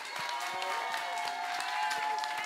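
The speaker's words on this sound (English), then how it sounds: "Get up and clap for my goddamn sister." A crowd at a drag viewing party in a West Hollywood bar claps and cheers, steady close applause with whoops while people talk over it.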